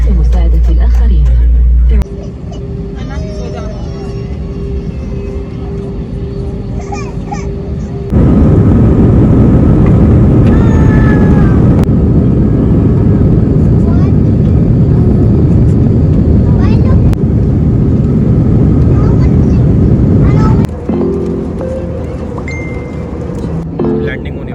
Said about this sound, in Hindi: Now we are about to take off from Karachi International Airport for Dubai.